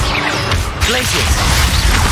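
A Glacius ice spell cast in Hogwarts Legacy, heard as a crashing, whooshing burst inside a loud, busy mix of continuous combat effects.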